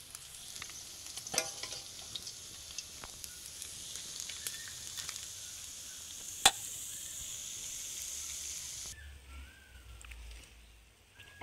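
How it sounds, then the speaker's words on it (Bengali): Fish fried in oil in a wok, a soft steady sizzle with occasional sharp utensil clinks and scrapes, moderately close, quieting near the end, with no talk. "যে কয়েকটা বাকি ছিল সেগুলো কড়াই থেকে তুলে নিচ্ছি"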